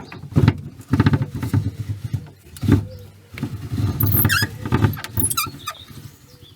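A spare wheel is lowered by a cable crank beneath a Pössl camper van, giving irregular close ratcheting clicks and scraping knocks in uneven bursts with short pauses.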